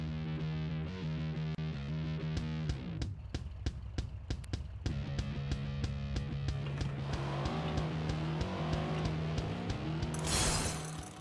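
Racing game kart, the Daxamobile, roaring through a Jak X capture race on Wasteland Isle, its engine drone steady under busy game music, with sharp impacts and a loud burst of noise near the end.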